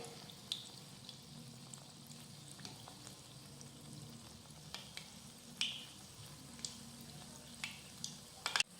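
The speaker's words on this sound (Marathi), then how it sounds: "आता ही भजी दोन्ही साईडनी व्यवस्थित आपण तळून घेऊयात" Spinach palak bhaji fritters frying in oil, a faint, even bubbling sizzle with occasional soft clicks and spatters, fairly quiet with no talking.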